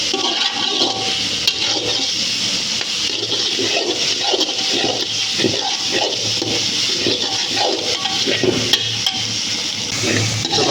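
Water is poured into a pot of mutton curry simmering with lightly cooked onions, giving a continuous close rushing splash that holds steady throughout with no speech.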